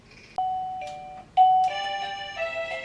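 A wireless wifi video doorbell plays its standard ding-dong chime: clear tonal notes ring out one after another, close and fairly loud, with sustained ringing overtones at the end and no talking.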